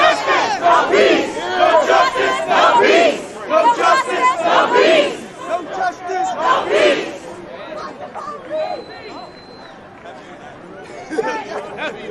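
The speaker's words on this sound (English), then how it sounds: "That is what the crowd chanted at a few cops." A protest crowd loudly chants "NYPD take a knee" at a few police officers during a George Floyd demonstration, rhythmic massed voices for about seven seconds, then fading into murmuring crowd noise.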